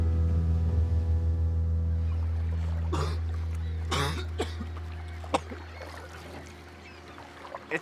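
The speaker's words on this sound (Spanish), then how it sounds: "esa tos ya me está preocupando" A few sharp coughs break through around the middle, close by, over a steady low engine drone and faint splashing at a swimming spot.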